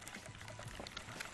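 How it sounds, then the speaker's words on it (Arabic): Water being poured into tahini sauce, a continuous bubbling, splashing trickle close by for a short moment. "بس احط الميه الاول شويه ميه"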